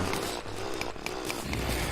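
Continuous harsh, buzzing drill noise while mining in Terraria, a steady grinding whine with short repeated pulses, loud and close, with no speech.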